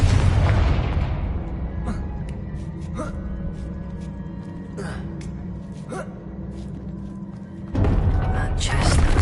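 A Confringo blasting spell in Hogwarts Legacy sets off a deep booming explosion at the start that fades into a rumbling tail, with scattered sharp pops and a second loud burst near the end.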